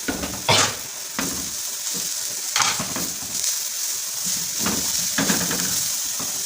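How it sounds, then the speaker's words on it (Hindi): Green chilies fry lightly in hot oil for aloo paratha filling, a steady close sizzle broken by several sharp stirring scrapes of a spoon against the pan, no talking. "ये हरी मिर्चें हैं, ये थोड़ी सी डाल लेंगे, साथ भून जाएँ हल्की हल्की"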